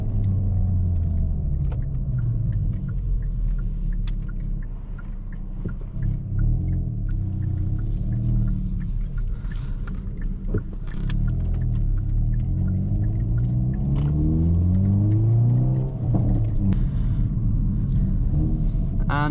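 A Hyundai i30N with a modified exhaust rumbles deeply, with a low throaty drone rising into a couple of revving sweeps near the end, heard close and loud.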